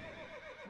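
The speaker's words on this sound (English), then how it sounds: "I agree, the horses are annoying." A horse neighs in the Mount&Blade video game, a single loud, wavering whinny that holds steady for under a second with no talk over it.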